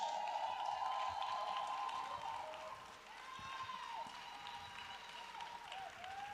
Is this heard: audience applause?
yes